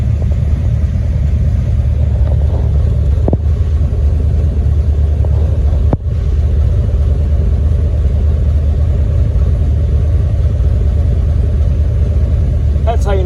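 The engine of a 1980 AMC Spirit AMX idles with a steady low rumble after a cold start, close and continuous, with a couple of brief clicks.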